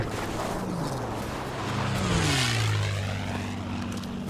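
In the Battlefield V video game, a propeller aircraft passes overhead, its engine drone swelling and shifting pitch as it flies by, loud over a constant background rumble of battlefield ambience.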